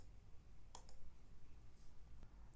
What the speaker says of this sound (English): we will simply release the alternate key and only left click on the parts